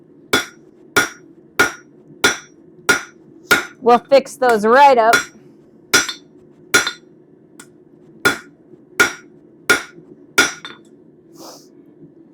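Hammer strikes ring on hot metal being forged into a bird feeder hanger, sharp evenly spaced blows with a quick flurry of rapid taps midway; someone speaks briefly.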